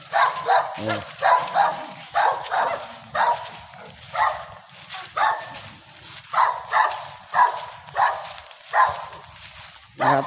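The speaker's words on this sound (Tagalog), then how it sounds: "Tinatahol tayo ng aso." A dog barks repeatedly at people walking along a slippery path toward Busay Falls, the barks coming in steady bursts at moderate distance with faint voices and outdoor ambience around them.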